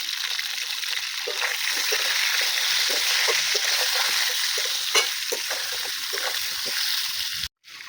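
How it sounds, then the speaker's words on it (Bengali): Pointed gourd pieces fry and get stirred in hot oil for a korma, a steady close sizzle broken by light scraping strokes, ending with a brief clunk. "আমি একটু লাল করে ভেজে নিয়েছি, বেশি ভাজা যাবে না"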